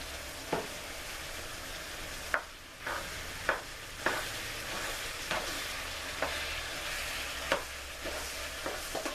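A spoon stirs baked ziti sauce in a pan, scraping in irregular strokes over a soft, steady sizzle, quiet and close with no talking.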